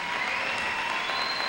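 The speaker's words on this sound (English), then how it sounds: "give them a great round of applause" An audience applauds students at a high school Veterans Day event, a steady wash of clapping throughout.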